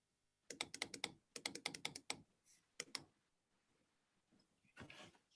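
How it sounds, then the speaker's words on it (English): Rapid bursts of computer keyboard typing during an online public health webinar, several quick runs of crisp key clicks separated by short pauses, close and clear with no talking. "I think they are typing the link for you on the screen."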